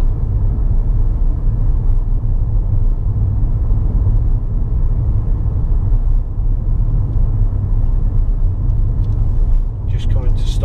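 Ford Fiesta 1.0 EcoBoost cabin on bumpy roads: steady low road rumble and engine hum throughout, loud and even, with a faint tap near the end.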